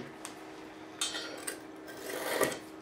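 Quiet rubbing strokes of a home-made guitar fret-leveling sanding beam, a few soft scrapes building into a longer, louder pass toward the end.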